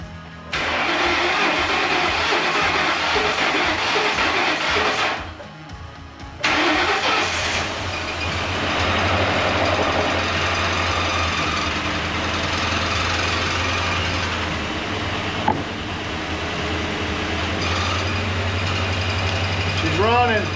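A 1986 Ford Ranger V6, freshly fitted with new fuel injectors, coil packs and fuel filter, cranks up close, stalls briefly, then catches and settles into a steady, slightly rough idle.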